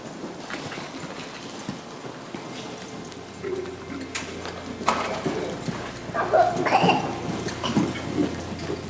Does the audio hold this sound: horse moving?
yes